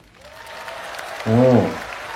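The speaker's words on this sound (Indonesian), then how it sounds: "Tepuk tangannya." A crowd claps and cheers in a steady wash, with a brief voiced shout rising over it midway.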